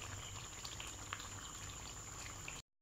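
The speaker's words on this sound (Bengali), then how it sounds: "আমার জলটা ভালোভাবে ফুটে গেছে বলে আমি এবার চালটা দিয়ে দিলাম" Water for chicken biryani rice boils in a pot, giving a steady, close bubbling hiss that runs evenly throughout before a brief cut to silence near the end.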